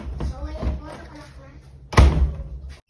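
A newly installed PVC plastic door is shut and locked, a single loud, close thump and clunk following a voice speaking nearby.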